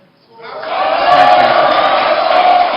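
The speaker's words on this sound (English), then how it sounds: "audience members, please, could you stop jeering or clapping?" Debate audience at the 2020 Edo governorship debate in a hall, a broad crowd roar of jeering and clapping swelling up after a quiet start and holding loud and steady, with voices mixed into the din.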